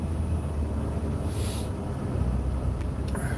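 Strong wind roars in a steady, dense rush against the microphone on a warm, low-humidity day, loud and continuous with faint gusty swells and no talk.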